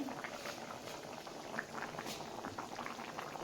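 Magur fish curry with banana and potato simmering in a pot, a steady close bubbling and popping that runs through the whole stretch at a moderate, even level.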